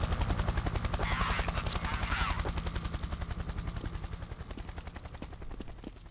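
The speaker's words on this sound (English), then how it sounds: "Plane taking off." A plane takes off on a video game map with a loud, steady, rapidly pulsing engine drone that fades slightly as it goes on.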